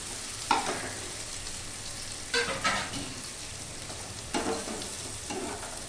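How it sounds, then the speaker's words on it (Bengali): Chopped onion fries over low heat in a pan, giving a quiet steady sizzle broken by a few brief stirring scrapes. "একটু ভাজবো, পেঁয়াজটা অল্প ভাজবো, বেশি না।"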